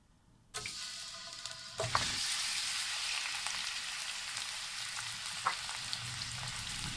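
Chicken hits hot oil in a karahi pan: after a quiet start, a loud, close sizzle bursts in and holds steady, with a few utensil knocks and stirring scrapes over it. No one speaks.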